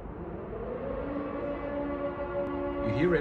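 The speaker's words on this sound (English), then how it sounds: "So you hear the siren." An air raid siren in Kyiv, Ukraine, drones steadily over a low rumble, its tone rising and wavering near the end.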